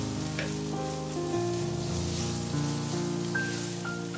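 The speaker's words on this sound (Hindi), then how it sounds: "अब इसके अंदर ये मैं सारी सब्जियां डाल दूंगी। सिर्फ 1 मिनट के लिए इसको हम शैलो फ्राई कर लेंगे" Mixed vegetables shallow frying in a pan for chicken vegetable pasta, a steady, close sizzle mixed with background music across the whole short stretch.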